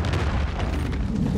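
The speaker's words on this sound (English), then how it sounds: "Hostiles launched the cruise missile" A cruise missile explodes in Call of Duty, a loud sustained boom with heavy low rumble and crackling debris filling the short moment.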